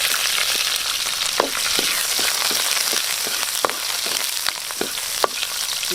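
Garlic and chili sizzle and fry steadily in a hot pan, a dense continuous crackle with sharper spatters and stirring clicks scattered throughout, close and fairly loud with no talking.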